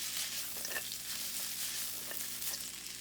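Vegetables stir-fry in a wok with a steady, loud sizzle and occasional scraping and tossing clatter, close and continuous with no voices.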